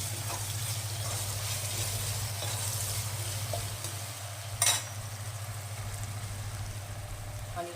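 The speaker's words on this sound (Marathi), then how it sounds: "टोमॅटो घेतलाय मी, त्याच्यात टाकून द्यायचं, छान परतू द्यायचं।" Tomatoes sautéing in a pan with curry leaves for a Rajasthani dal bati dish, a steady soft sizzle running throughout with a brief clatter of stirring midway.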